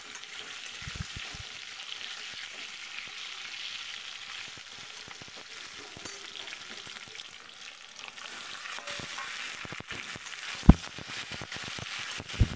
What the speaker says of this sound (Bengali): আলুটাকে একটু লাল লাল করে ভেজে নেব।